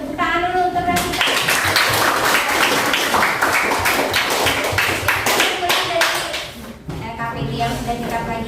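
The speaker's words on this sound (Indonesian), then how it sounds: "Tepuk tangan dulu untuk Revita" Classroom clapping breaks out for a student, a dense burst of many hands lasting several seconds before fading, with a teacher's voice speaking around it.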